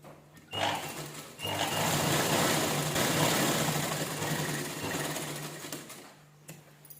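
A sewing machine runs in one long, steady burst as it stitches a square back neck on an unlined blouse reinforced with canvas, starting and stopping sharply, close and loud with no talking.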